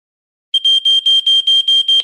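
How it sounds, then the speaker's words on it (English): A security alarm goes off with a loud, piercing electronic beep pulsing in a rapid, even series of about eight bursts, starting abruptly after silence with no voices over it. "the alarm goes off."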